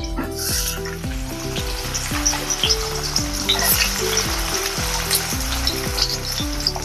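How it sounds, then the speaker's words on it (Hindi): Cumin seeds and onions for veg Manchurian gravy hit a spoonful of hot oil, sending up a loud, steady sizzle that runs throughout beneath background music. "तेल गरम हो गया है, इसमें डालेंगे हम जीरा। जीरा भी हो गया है। अभी इसमें डालेंगे हम प्याज।"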